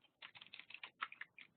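Quiet, rapid bursts of keystrokes on a computer keyboard while network switch commands are entered, with irregular clusters of clicks and short pauses between them.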